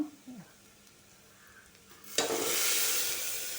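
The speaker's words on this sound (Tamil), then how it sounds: "வெங்காயமும் பச்சை மிளகாவும் நல்லா வறுத்துட்டேன்." Onions and green chillies frying in a pan for a spinach dal, faint quiet sizzling at first, then a sudden loud burst of sizzling that stays strong to the end.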